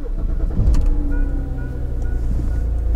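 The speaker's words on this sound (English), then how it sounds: "So let's go ahead and start the car." A BMW E90 sedan with an intake Vanos solenoid fault starts up: a brief cranking burst catches into a low, steady idle rumble close by, with no talking.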